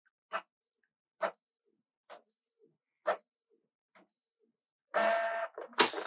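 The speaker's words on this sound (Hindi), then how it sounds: "मेरा प्रिंटर पे मैंने प्रिंट आउट दिया है इधर यहाँ पे प्रिंटर है शिपिंग लेवल हमारा इस प्रकार से प्रिंट आउट होके बाहर आ रहा है" A shipping label printer feeds out a label: a series of short, evenly spaced mechanical clicks in a quiet room, followed by a louder whirring burst near the end.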